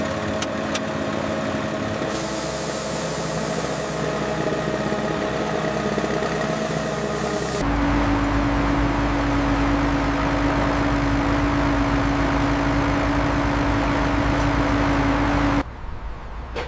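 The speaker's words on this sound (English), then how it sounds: "Engine engaged." Inside an asphalt factory that recycles old tires, a machine engine starts up and runs with a loud, steady drone. Partway through, the pitch and tone change abruptly to a deeper sustained hum, and then the noise cuts off sharply near the end.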